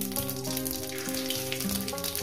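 Whole cumin seeds and a bay leaf torn in two hit hot oil for a fish curry, giving a steady, close sizzle and crackle that runs unbroken throughout, with a faint background hum.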